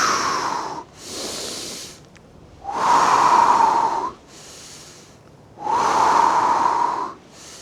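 Slow, deep breaths during a gentle full-body mobility routine for seniors, three long airy inhales alternating with softer exhales in a steady rhythm, close and clear with no talking.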